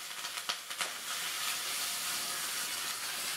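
Curry leaves drop into hot oil as the tempering for a sirukeerai kootu, giving a few sharp crackling pops at first and then a loud, steady hiss of sizzling that continues throughout.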